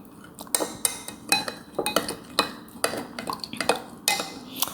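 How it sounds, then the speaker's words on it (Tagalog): A spoon stirring yeast mixture in a bowl, brisk repeated clinks and taps against the sides in an irregular rhythm, close and clear with no talking. "halu-haluin lang natin siya guys hanggang sa mag-bubbles"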